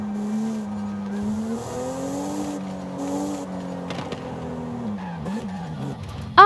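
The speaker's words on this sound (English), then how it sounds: "we're taking the legendary Toyota Supra for a wild spin in Forza Horizon 5" Toyota Supra with a turbocharged inline-six driving off-road in Forza Horizon 5, a steady engine drone rising and falling with tire noise and a sharp burst at the end.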